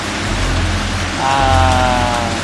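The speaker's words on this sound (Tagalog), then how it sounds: "Parang wala pang balak huminto yung ulan eh." Heavy rain pouring steadily in the Philippines, a dense close hiss of downpour with a low rumble underneath, swelling slightly louder partway through.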